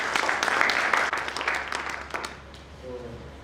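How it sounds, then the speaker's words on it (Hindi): An indoor audience at a motivational talk breaks into dense, loud applause that fades after a couple of seconds, followed by a brief quiet moment. "तो मुझे लगता है इस बात पे एक जोरदार ताली बनी।"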